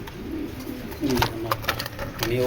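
Racer pigeons coo in short, low, repeated phrases close by, with a few brief spoken words mixed in over a faint background hum.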